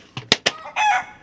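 A chicken gives three sharp, close clucks in quick succession, then a short, loud crowing call, all within about a second.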